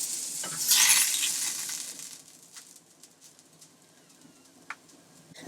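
Meat patties for lahme mdalaleh go into hot oil in a pan with a sudden loud burst of sizzling that fades over a couple of seconds into a quiet, sparse crackle.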